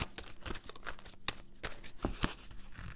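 A deck of tarot cards is shuffled by hand at close range, giving quiet, uneven papery riffles, slides and sharp flicks with no talking.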